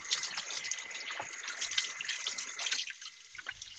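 Tap water runs and splashes while hands are washed in a home kitchen, a close, uneven trickling and gushing that eases off near the end, with no voices.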